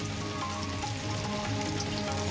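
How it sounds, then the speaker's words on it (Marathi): Heavy monsoon rain falling in Raigad district, a dense, steady wash of drops pattering on surfaces with no letup and no voices. "रायगड जिल्ह्यात तुफान पाऊस झाला"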